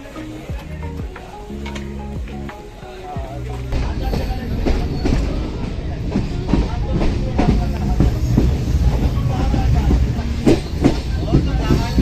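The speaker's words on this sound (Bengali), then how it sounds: "দুই আর তিন নম্বর প্ল্যাটফর্মে আমাদের ট্রেন ঢুকবে" A train rumbles and clatters along the tracks into a station with rhythmic clicking wheels, loud and close, amid a busy, echoing platform background.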